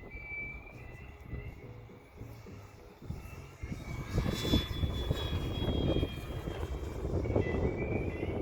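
A Bucher Bird airplane cruising over a club flying field on a hot, windy evening: a faint engine drone grows louder and rougher as it passes, with wind noise underneath.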